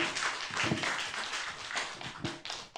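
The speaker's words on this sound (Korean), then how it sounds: "박수 한번." Scattered, uneven clapping from a small audience at the close of a medical seminar, with individual hand claps standing out in a loose, irregular rhythm.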